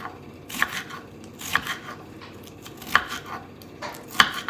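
A knife chopping omelette ingredients on a cutting board, four sharp, spaced chops with soft scraping and shuffling between them.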